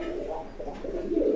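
Pigeons cooing softly in a loft, low rolling coos close by in a brief, continuous murmur with no voices.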